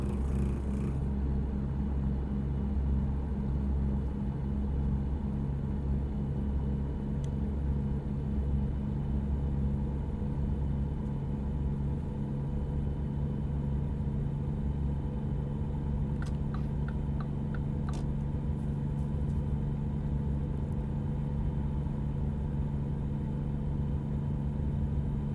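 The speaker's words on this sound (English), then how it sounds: "Something else I think I would have to deal with if I were an actual truck driver is that sound. The engine sound." Truck engine in American Truck Simulator, a steady low rumbling drone that holds evenly throughout, with a few faint clicks near the end.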